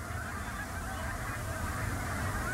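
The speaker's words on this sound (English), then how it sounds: "the Pacific black brant, a small coastal goose whose entire population stops at the refuge during migration" Pacific black brant, small coastal geese, call at a migration refuge, a faint, dense chorus of overlapping honks from a distant flock with no clear breaks.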